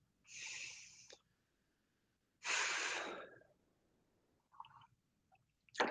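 A man breathes heavily to catch his breath, with two long loud exhales followed by a few shorter, fainter breaths, close to the microphone and alone.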